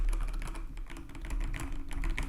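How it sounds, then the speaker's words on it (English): Steady, rapid typing on a mechanical keyboard, with soft, low clacks in an uneven rhythm, close up and alone, with no talking. "if you're typing, which I do a lot of course, both for video clips and emails and so on, the sound is just amazing"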